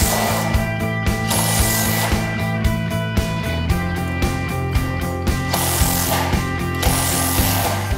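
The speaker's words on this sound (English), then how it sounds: "We'll now screw B5 into B4 on both sides." Steel truss parts being screwed together, with a steady ratcheting, mechanical whirring drive repeating in close, loud bursts and brief pauses between them.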